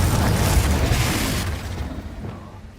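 A Confringo fire spell bursts in Hogwarts Legacy, a loud booming explosion at the start that slowly rolls off into a fading rumble, with no voices over it.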